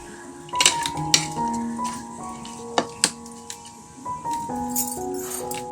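Dry coconut roasts in a pan with a metal spatula scraping and clinking against it, producing ringing metallic tones and irregular knocks over a faint background hiss.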